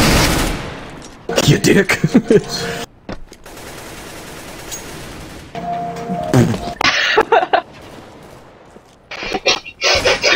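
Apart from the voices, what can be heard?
gunfire in a video game death match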